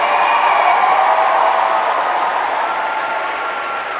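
Applause from a graduation audience at the Robert Treat Academy's 19th annual commencement, a steady, dense wash of many hands clapping with a faint crowd murmur, loud and continuous throughout.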